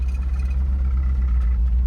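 A 1968 Shelby GT500KR convertible with a 428 engine running, a loud, low steady rumble close by with a slight clattering edge, no talk.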